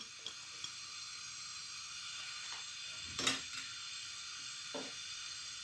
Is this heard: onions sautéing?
yes